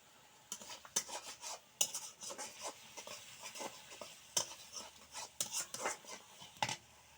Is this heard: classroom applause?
no